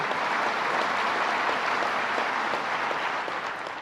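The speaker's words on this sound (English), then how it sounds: "let's give a big round of applause for her" Audience applause at a state economic development announcement, a steady wash of many hands clapping throughout, full and sustained, fading slightly at the end.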